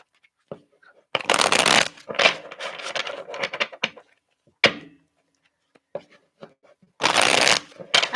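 Playing cards shuffled while swapping decks, with two loud riffling bursts near the start and end and scattered taps and soft handling sounds in between.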